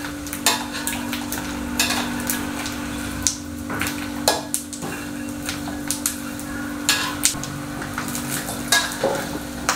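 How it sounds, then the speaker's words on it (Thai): Pork cracklings frying in a pan while being stirred and turned, a continuous sizzling bed broken by frequent sharp scraping clicks and taps of the utensil against the pan, fairly close and with no talking. "ค่อยกลับเรื่อยๆนะครับกลับให้กากหมูของเราพองตัวให้หมด"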